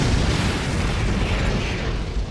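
Missile explosions in a team battle video game, a dense, continuous rumbling blast that stays loud and broad for a couple of seconds with no clear gaps between impacts.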